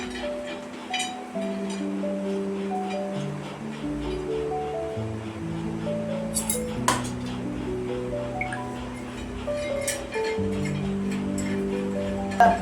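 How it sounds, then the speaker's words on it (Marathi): Dry coconut roasting in a pan with utensils clinking, scattered light clinks and scrapes sounding close, partly under a steady background hum and occasional talk. "आता आपण पहिलं खोबरं भाजून घेऊया।"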